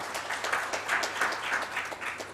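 An audience at an entrepreneurship event in Kolkata claps for the event's advisors, a soft, steady round of applause heard from some distance, fairly faint and without talk.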